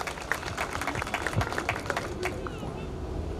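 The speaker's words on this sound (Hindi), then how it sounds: "एक बार फिर से तालियां बजाएं उनके लिए।" An audience claps at a World Cancer Day event honouring cancer survivors at a cancer hospital in Bedwas, Udaipur, steady scattered applause from a crowd with murmuring voices mixed in.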